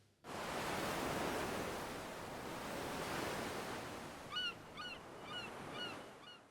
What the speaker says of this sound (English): Oh, a lovely beach